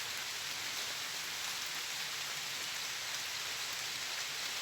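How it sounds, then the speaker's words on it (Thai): Steady rain falls in an even, hissing wash, constant and unbroken throughout with no voices. "ฝนตกเลย"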